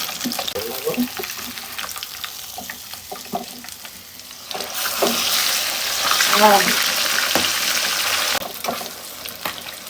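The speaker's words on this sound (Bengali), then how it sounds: "এই দেখো আমার মাছ ভাজা কিন্তু হয়ে যাচ্ছে।" Katla fish sizzles and crackles in hot oil, with occasional stirring and scraping sounds and a brief run of water partway through.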